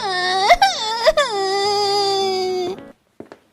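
Loud, close wailing of the young boy Chintu after a slap, with harmonic sobbing cries broken by sharp catches of breath for nearly three seconds, then a few brief whimpers after a pause.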